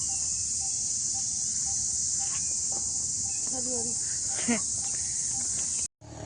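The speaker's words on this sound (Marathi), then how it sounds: "आवाज पण बघा कसा येतो रातकिड्यांचा" Crickets chirp in a steady high-pitched drone on a morning walk, continuous and fairly loud, with faint bird calls and scattered distant sounds beneath before a brief dropout at the end.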